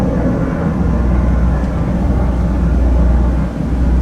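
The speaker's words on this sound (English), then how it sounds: "There's an airplane taking off there. You can hear the sound," Steady low, broad rumble of a jet aircraft taking off from a nearby airport, heard from Tokyo Bay, continuous and heavy with a faint background hiss.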